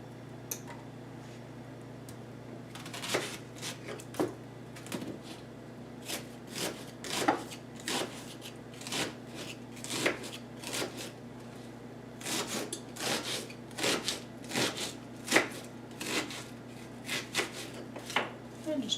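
A knife chops ingredients for a stuffed pepper casserole on a board in a steady, uneven series of close, crisp cuts over a faint constant kitchen hum.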